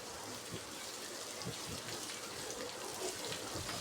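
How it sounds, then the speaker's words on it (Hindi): Chopped onions sizzling in a pan over a medium flame, a steady hiss of frying with small crackles and pops throughout, close and alone with no talk. "प्याज को इतना फ्राई करनी है कि ये ट्रांसपेरेंट और सॉफ्ट हो जाए"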